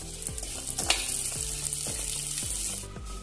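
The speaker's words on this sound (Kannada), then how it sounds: "ಅದೇ ತುಪ್ಪದಲ್ಲಿ ಸೇಮಿಗೆಯನ್ನು ಫ್ರೈ ಮಾಡುವ." Vermicelli frying in ghee for semige payasam, a steady close sizzle broken every half second or so by soft scraping thumps of stirring, with no talking.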